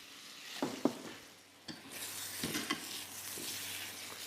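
Butter and dried tarragon sizzling in a hot pan, a steady frying hiss with scattered stirring scrapes and taps, swelling louder in the second half, no voice.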